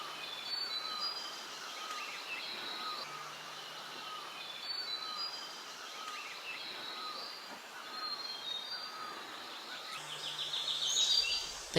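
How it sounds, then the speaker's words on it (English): A dense morning chorus of many birds in a Xishuangbanna forest, thin high whistles and chirps layered over a steady hiss of ambience, fairly faint and distant throughout. "we just heard many birds"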